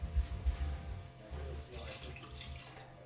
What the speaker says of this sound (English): And I am also going to add a cup of water.